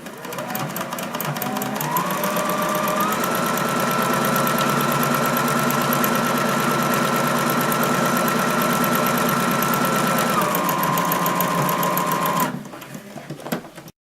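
Sewing machine stitching fabric pieces for dinosaur arms, a steady close mechanical whir running continuously for about ten seconds, rising in pitch as it speeds up, then slowing and stopping.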